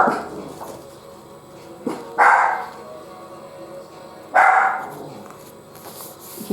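Two loud, separate barks from a pet dog indoors, a couple of seconds apart, with quieter whining and rustling in the pauses between them.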